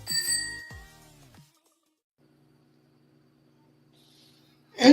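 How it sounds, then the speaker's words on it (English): A single bright bell ring sound effect, a short metallic ding near the end, heard alone after a brief stretch of music and quiet. "ring the bell."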